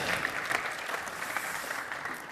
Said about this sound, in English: Thunderous applause for Will.